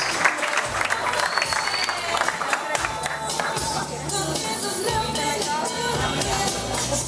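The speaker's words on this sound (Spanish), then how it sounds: "¡Aplauso para el nuevo coach y Jessica!" Audience clapping and cheering at a father-daughter dance event, a busy crowd sound mixed with music and an excited voice over a loudspeaker.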